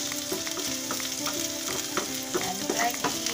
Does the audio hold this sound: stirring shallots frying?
yes